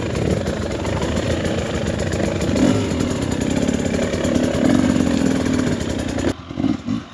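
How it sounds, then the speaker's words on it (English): A 2024 Husqvarna TE300 dirt bike idles on a trail, a close, rough, steady two-stroke burble with some clatter, the engine cutting out near the end and sputtering unevenly. "I think I need to turn this idle up a bit."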